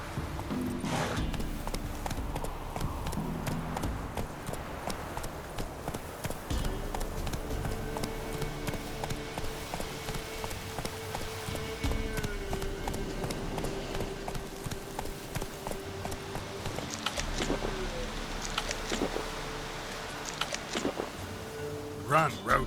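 Roach the horse gallops in The Witcher 3, rhythmic clip-clopping hoofbeats running steadily throughout, with a voice speaking intermittently and game music and effects in the background.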